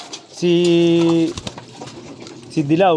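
Pigeons coo in a loft, steady low throaty calls rising up close, with someone speaking between and over them.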